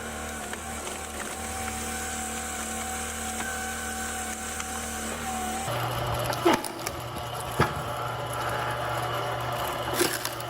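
Sawmill wood splitter machine processing wood: a steady mechanical motor drone with a tonal hum that shifts midway into a rougher, noisier running sound with a few clunks, no speech.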